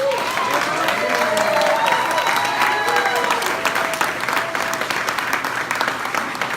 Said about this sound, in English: applaud as if he could hear you wherever he is